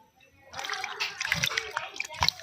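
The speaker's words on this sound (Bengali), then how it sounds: "ভালোভাবে ঘষে পরিষ্কার করে ধুয়ে তুলে নেব।" Halved figs are rubbed and rinsed by hand in water, giving close splashes and sloshing that start after a brief quiet moment, with a voice speaking over the water.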